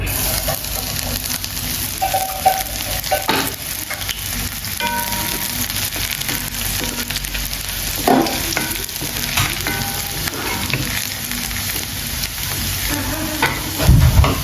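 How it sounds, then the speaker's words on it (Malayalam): Garlic fries in hot oil in a pan and is stirred, a continuous close sizzle with scraping stirs throughout and a louder clatter near the end. "കുറച്ച് ഓയിലിട്ട് ആവശ്യത്തിന്. അതിലേക്ക് ആദ്യം നമുക്ക് ഈ വെളുത്തുള്ളി ഒന്നിടാം."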